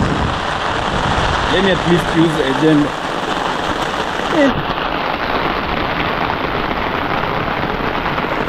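Rain falls on a two-bedroom house under construction in Africa, a loud, dense and continuous hiss. Voices talk briefly over it near the start.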